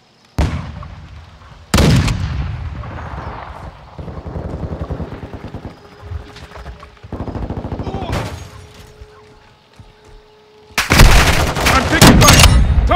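Video game gunfire cracks out in repeated loud bursts with rapid automatic fire. Quieter rattling and game sounds fill the gaps, and a heavy barrage closes the stretch.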